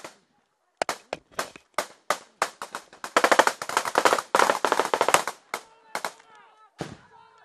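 Gunfire in an Afghan firefight: single sharp shots a few tenths of a second apart, then a dense stretch of rapid automatic fire, then sparse shots again, with shouting voices between bursts.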